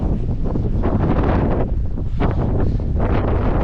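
Wind blowing hard on open moorland along a hiking trail, a loud, steady rush buffeting the microphone and surging in gusts throughout, with no voices.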